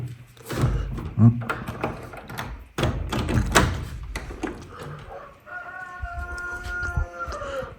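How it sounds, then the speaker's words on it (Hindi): A rooster crows in the distance, its drawn-out call rising over outdoor noise with knocks and clatter nearby. "नीचे मेरा मुर्गा चिल्ला रहा है।"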